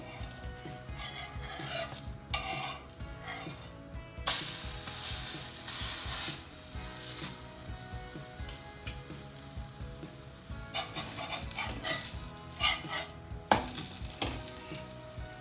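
A moong dal and beetroot chilla crisps in ghee on a pan, its sizzle rising and falling in bursts with scraping sounds from a spatula, close and fairly quiet.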